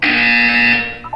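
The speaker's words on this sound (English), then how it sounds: "You will hear a buzzer." Buzzer in the video game Portal 2: a single loud, harsh electronic buzz that holds steady for about a second, then cuts off.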